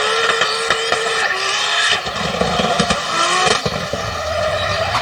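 A toy race car whirs with a steady buzzing motor and high whine, scraping and clattering along a surface with a few sharp knocks.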